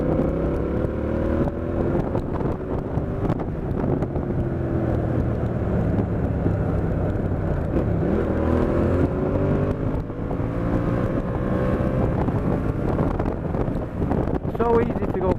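A Yamaha MT-07 motorcycle fitted with an IXRace exhaust drones along on the road, its engine note rising and falling through gear changes beneath constant helmet wind rush, with the rider talking over it.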